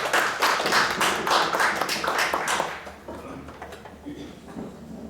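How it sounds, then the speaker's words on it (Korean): An academic conference audience claps for a society president, a brisk round of applause that is strong for about three seconds and then quickly thins and dies away into room quiet. "박수를 좀 크게 청해 주십시오"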